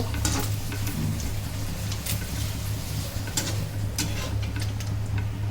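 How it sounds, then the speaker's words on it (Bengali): Onion, chili and garlic sizzle in hot oil for a dal tempering, a steady close crackle with scattered sharp pops over a low hum, no talking. "বাগারের জন্য এখন পেঁয়াজ মরিচ রসুন সব দিয়ে দিয়েছি ডালটা বাগার দিব এখন"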